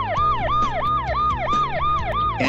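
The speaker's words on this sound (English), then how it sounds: "Ambulance." A rapid, repeating ambulance siren yelps up and down in quick regular cycles, loud and close, over a low engine hum.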